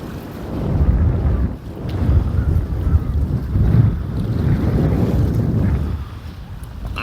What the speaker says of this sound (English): Ah, wind, man.